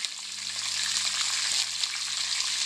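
Green chillies and urad dal fry in hot oil in a home kitchen, giving a steady, close, even sizzle with faint stirring crackles throughout and no voices.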